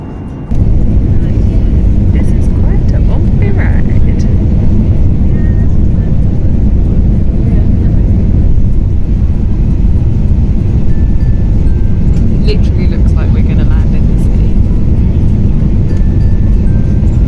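Loud, steady airplane engine roar fills the cabin of a Wizz Air flight throughout, a constant broadband drone with faint higher whines and small clicks on top.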